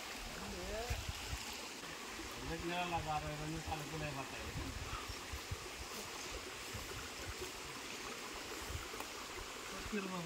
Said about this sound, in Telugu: ఇది వేయిలింగాల కోన నుంచి వచ్చే నీళ్ళు